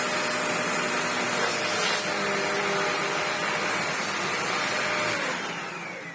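Sebo Dart 1 commercial upright vacuum cleaner running with a loud, steady, close motor roar and airflow hiss, easing slightly in level toward the end.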